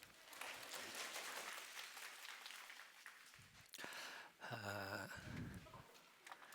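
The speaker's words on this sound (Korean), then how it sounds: "박수." A burst of clapping from a church congregation after shouts of "Manse" fills the opening seconds, then fades into shuffling, a brief voice and other crowd noise.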